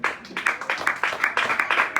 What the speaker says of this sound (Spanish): Póngase de pie, hermano, y regálele un aplauso al Señor